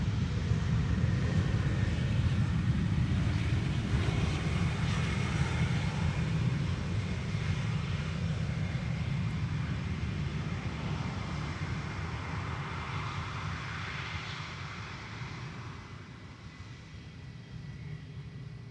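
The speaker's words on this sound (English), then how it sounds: "This is BA flight 430, arriving from London Heathrow" A British Airways airliner arriving from London Heathrow roars past at a distance, a broad, loud jet rumble that slowly fades as it moves away, with some wind noise mixed in.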